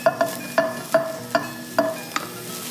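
Onions cooking in a pan as chickpeas go in, with a utensil striking the pan in a series of sharp, evenly spaced clacks over a soft sizzle, close and clear with no talk.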